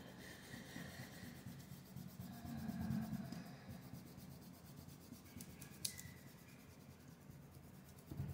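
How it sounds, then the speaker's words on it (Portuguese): A Pentel eraser rubbed over pencil marks on paper, producing faint, repetitive scratchy strokes that are quiet and close throughout. "Tirar o resto da borracha que ficou embaixo, usando uma borracha."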